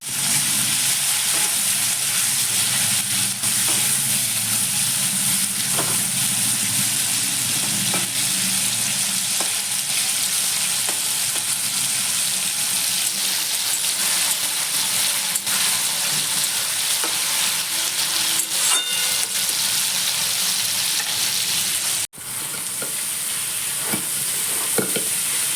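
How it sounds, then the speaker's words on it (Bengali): Catla fish head frying in hot oil, loud continuous sizzle with crackling spatters and occasional stirring scrapes, near and steady, with a brief dip near the end. "এত ফুটছে যে মাথাটা এখানে বসিয়েছি ভাজায়"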